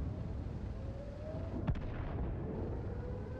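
Artillery gun firing in the World of Tanks video game, a single sharp distant crack rising out of a steady low engine rumble, followed by a brief rolling echo.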